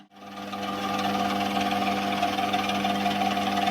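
A lathe spins a tin of JSB air rifle pellets, a steady humming motor drone with a continuous rough rattling rasp of pellets shaken inside the tin, starting abruptly and holding constant, close and alone.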